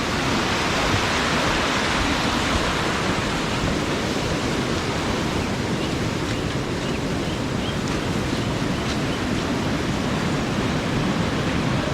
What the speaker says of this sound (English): There's little streams up there too.